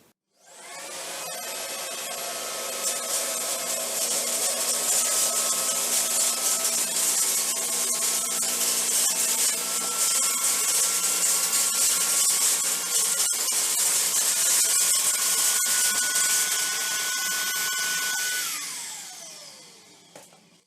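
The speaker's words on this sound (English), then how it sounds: "We also tested the vacuum on a hard floor. The hard floor in this case was tile." A Shark WandVac handheld vacuum runs on a tile floor picking up small to medium debris, giving a steady loud whine that starts abruptly, holds for about eighteen seconds with small rattles of debris, then winds down.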